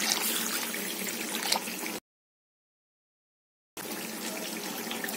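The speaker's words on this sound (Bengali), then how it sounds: "আরেকটু জল দিয়ে দেব, কারণ জল দিলে তাহলে আরেকটু বাড়বে" Water poured into a tamarind chutney paste in a home kitchen gives a steady, close trickle. It stops dead for under two seconds, then resumes at the same level.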